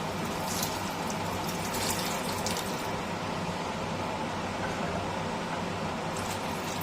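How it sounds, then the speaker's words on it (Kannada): Steady rushing water poured into a pot of onion curry with tamarind, a continuous splashing flow that carries on without pause for several seconds. "ನೀರು ಹಾಕೋಣ ಸ್ವಲ್ಪ"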